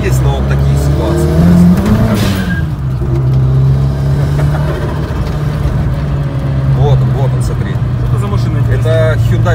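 A Hyundai Coupe drives through empty city streets at night. The engine roars steadily and close throughout, with possible tire squeal as it accelerates, while people talk over the noise.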